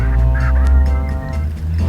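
A dodo bird call from the mobile game ARK Mobile, a loud, nasal honking squawk with a few rough, goose-like bursts repeated over about two seconds, with no voices.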